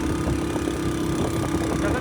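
A vehicle engine strains uphill on a mountain road after rain, a continuous, loud, steady drone close by.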